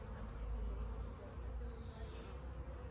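Honeybees buzz steadily at an open beehive during a brood inspection, a dense low hum close by with a few higher passing buzzes of individual bees.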